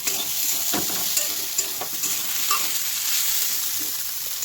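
Potatoes frying in a pan for a child's tiffin, a steady broadband sizzle with scattered spatula scrapes and taps, close and even throughout, no voices.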